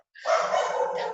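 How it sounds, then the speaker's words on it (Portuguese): A small dog gives one drawn-out, whining bark, loud and close, lasting about a second. "o meu cachorrinho está latindo"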